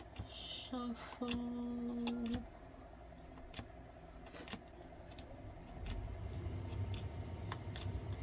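Lenormand cards are shuffled by hand in short, crisp riffles and flicks that come in bursts, close and fairly quiet over a low room hum, with no talk.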